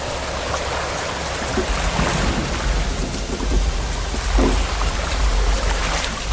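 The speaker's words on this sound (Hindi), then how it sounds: "सिर्फ बिजली कड़कने की आवाजें आ रही हैं।" Heavy rain pours steadily while low rumbles of thunder roll through, swelling loudly a few times over the downpour.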